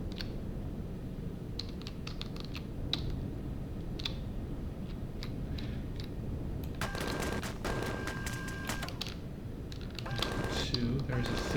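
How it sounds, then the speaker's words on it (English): Turrets firing in Empyrion produce scattered sharp clicking shots that swell into rapid bursts of tonal gunfire in the second half, moderately loud under a steady background hum, with speech present. "It sounds like turrets were going for him."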